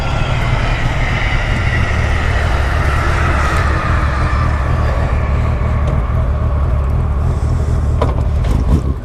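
A 1998 Honda Valkyrie F6 six-cylinder motorcycle runs nearby, a steady, loud, broad engine rumble with a dense low-end drone that holds throughout, alone with no talking.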